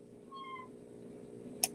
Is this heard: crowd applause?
no